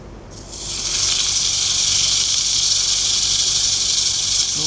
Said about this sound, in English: Heavier sandpaper.